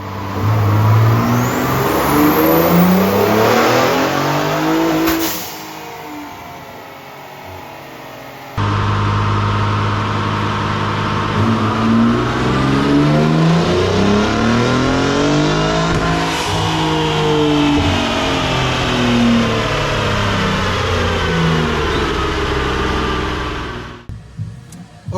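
Raptor truck engine making around 690 horsepower roars through dyno pulls, loud and close, climbing in pitch in long revving sweeps, dropping back briefly, then rising again before cutting off.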